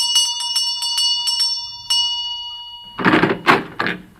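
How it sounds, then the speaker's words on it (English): A small bell rung rapidly several times to summon a butler as a comedy sound effect, bright and close, followed by a few heavy thumps like a door. "I'll ring the bell for my butler."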